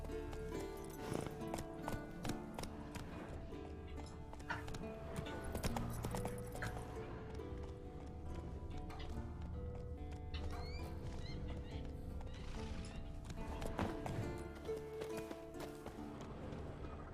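A horse galloping in The Witcher 3, rapid rhythmic hoofbeats with whinnies and snorts, layered over in-game ambience and music, fairly loud and continuous throughout.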